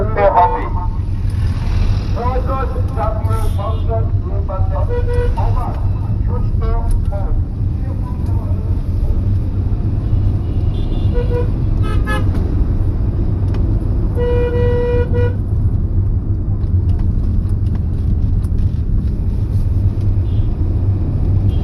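Steady traffic on a 300-foot road, with a continuous loud engine rumble and repeated car horn toots early on and again in the middle, while a voice talks over it.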